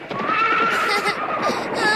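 A horse neighs and whinnies loudly and close by in an animated battle scene, one sustained wavering call with no talk over it.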